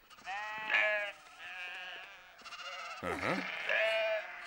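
Several sheep bleat in long, wavering cries one after another, loud and close, with a brief murmured voice among them.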